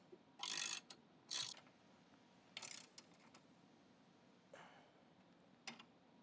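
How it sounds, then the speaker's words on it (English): A nut tightened on a Tennant B5 floor scrubber's caster wheel with a ratchet: several short, distinct bursts of rapid metallic ratcheting with pauses between them, fairly close, and no voices. "And tighten the nut back down."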